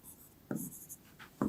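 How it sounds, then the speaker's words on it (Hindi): Writing on a board during a Class 6 ratio and proportion lesson: a few quick, close scratching strokes in short bursts, with no talk. "तो लिखते हैं रन्स"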